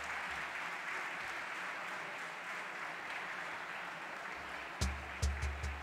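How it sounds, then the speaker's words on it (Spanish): Steady, fairly faint applause from a crowd at a charity gala against cancer in Málaga, continuous clapping throughout, with a few louder close thumps near the end. "¡Fuerte el aplauso, por favor!"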